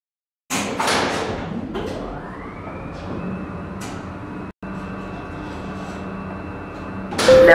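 Skytec Nova lift doors close at the firm's headquarters, with a sharp initial clatter, a climbing electric whine that levels into a sustained hum, a short dropout, then a loud thud as the doors meet.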